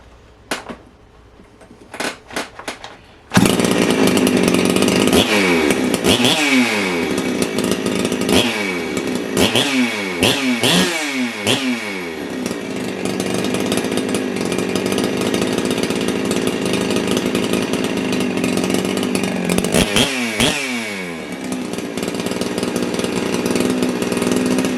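A ported big-bore Husqvarna 372XP chainsaw gives a few sharp pull-start attempts, then catches and runs loud and close, with repeated rising and falling throttle revs over a steady idle.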